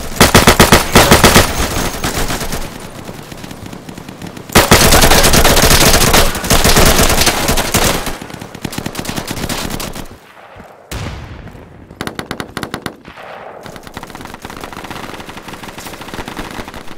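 Rapid automatic gunfire and single shots from the online shooter game Insurgency, a loud sustained burst of bursts that drops away briefly before shots resume at a steady, slightly quieter level.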